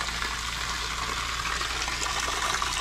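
Water rushes steadily under strong pressure through RV plumbing, a dense, even hiss held close and constant, with no voices.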